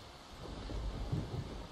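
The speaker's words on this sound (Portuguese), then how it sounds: "Vocês ouvem um trovão." A low, distant rumble of a thunder sound effect during a tabletop RPG session, steady and muffled, with no voices.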